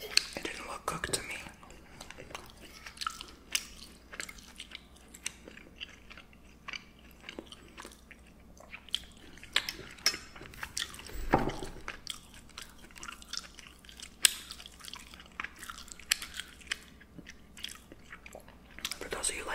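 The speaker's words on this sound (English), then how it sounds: "I purposely smack and chew louder for these videos because people like it." Close, deliberate chewing and lip smacking while eating sirloin steak with mushroom sauce, soft wet bites and crunches repeating irregularly in a quiet room.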